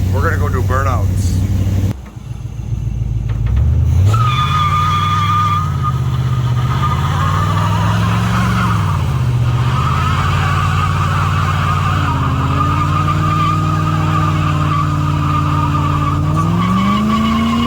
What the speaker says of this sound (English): We're gonna go do burnouts.